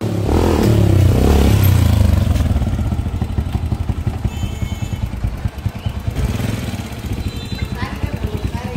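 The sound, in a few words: motorcycle engine revving at a service shop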